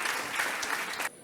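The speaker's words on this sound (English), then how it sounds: "let's give a hand again, another round of applause to the speakers" Audience applause for the speakers at a happiness forum in Lugano, a steady dense clapping that fills the hall and then cuts off abruptly near the end.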